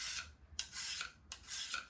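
A diamond sharpener is drawn flat across a blade to take off the burr, making three long, close rasping strokes with brief pauses between them.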